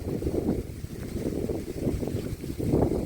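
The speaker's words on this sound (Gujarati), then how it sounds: "આજ પવન એ બહુ છે" Strong wind blows across an outdoor village field where maize is being harvested, a steady rumbling buffet with rising gusts pressing close against the microphone, and no voices.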